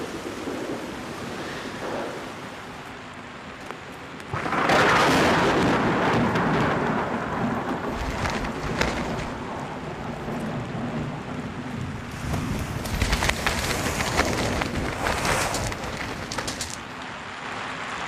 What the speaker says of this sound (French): je n'ai jamais vu un orage pareil